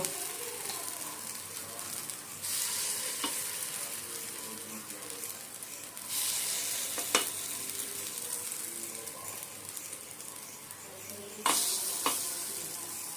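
Appam batter sizzles steadily in a hot pan, with a few sharp clinks and scrapes of stirring over the constant frying hiss.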